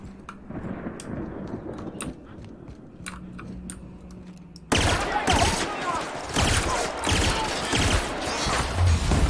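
A laser pistol fires in The Outer Worlds as rapid, sharp cracking shots, sparse at first, then a loud dense barrage of blasts over a rumbling game backdrop.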